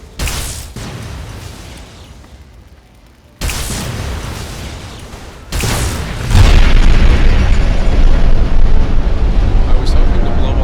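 Explosions in Fallout 3 erupt as sudden loud booms, three sharp blasts in quick succession, each leaving a heavy rumbling roar that swells and keeps going to the end.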